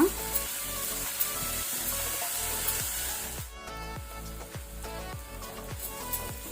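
Onions fry in a pan over a medium flame with a soft, continuous sizzle under background music that carries regular beats, and occasional light stirring sounds, all fairly quiet.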